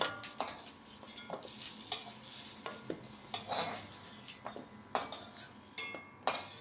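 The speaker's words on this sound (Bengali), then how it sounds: "এবার আমি আলু ফুলকপিটা তুলে নেব একটা ডিশে" Fried potato and cauliflower pieces are lifted from a pan into a dish, heard as a series of close metallic scrapes and clinks of a spatula against the pan at an irregular rhythm, with faint sizzling beneath and no talk.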